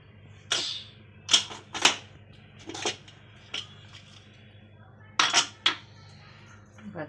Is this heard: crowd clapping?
no